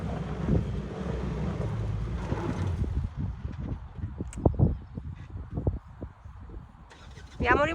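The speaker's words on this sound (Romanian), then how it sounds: "I-a murit motorul, mă?" VW Touareg on big mud tyres off-road, an engine cranking and running rough through wind buffeting, then sputtering and cutting out with scattered knocks before a brief sharp noise at the end.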